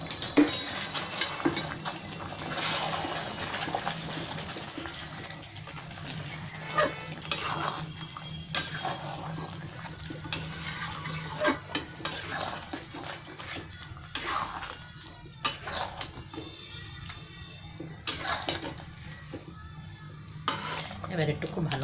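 A spoon stirs and scrapes homemade tomato puree, boiled with sugar and salt, as it sautés in a pan for chicken curry, making intermittent metallic clinks and scrapes over a low background hum.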